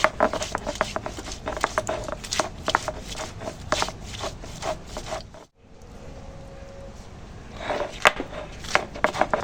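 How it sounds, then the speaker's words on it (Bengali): Ginger and garlic are ground into a paste for an egg and soybean curry, making rhythmic scraping strokes that pause briefly midway and then resume, close and fairly quiet. "ডিম সয়াবিন রান্না হবে তার জন্য আদা রসুন বাটছি"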